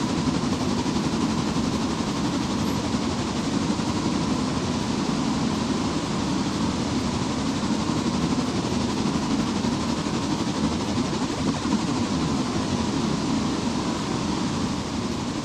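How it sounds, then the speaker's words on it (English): A locomotive runs continuously in a modded railroad logging game, a loud steady rumble and roar with rhythmic clatter heard alone, without any talk. "What? You can't hear me over the train?"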